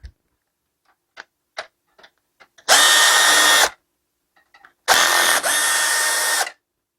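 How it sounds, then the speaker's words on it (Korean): A powered screwdriver unscrews the screws holding a graphics card in a desktop computer, two sustained whirring bursts of about a second each, separated by small scattered clicks and taps of handling. "이제 나사를 풀어 주시고요"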